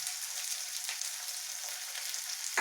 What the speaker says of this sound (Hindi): अब इसमें हम कटे हुए प्याज डाल देंगे और हरी मिर्च भी डाल देंगे।